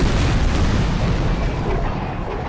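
Cannon fire in a naval battle in Napoleon Total War, with broadband booms rolling one into another, loud and continuous, easing slightly toward the end.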